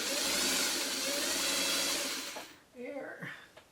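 Fabric pieces for a quilt block run through a sewing machine in a steady whirring hum for about two and a half seconds, then it stops and a person starts speaking close by.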